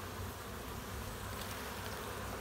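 A big mass of honey bees rushes into their hive at once, a steady dense buzzing hum close by that holds loud and even throughout with no voices.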